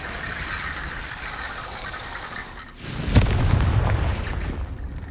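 A Confringo blasting spell explodes in the Hogwarts Legacy video game, one sudden loud boom out of a steady game ambience, followed by a rumbling low tail that lingers for a couple of seconds.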